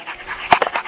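Hunting dogs on a dove hunt in South Dakota whimper and pant close by, a quick burst of short whines and yips within a second.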